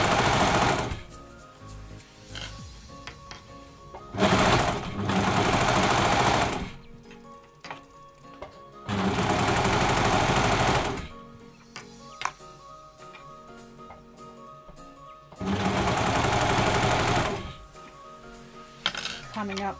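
A Brother 1034d serger runs in four loud, sustained whirring bursts as it stitches fabric, with quieter pauses between them filled by clicks and handling noises.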